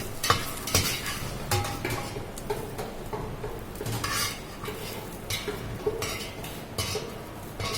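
A spoon scrapes and clinks against a pan in irregular strokes while stirring masala, with faint sizzling beneath, quiet and close.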